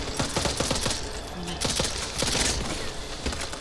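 Rapid gunfire in the zombie shooter game Back 4 Blood, dense bursts of automatic shots crackling continuously and loudly throughout.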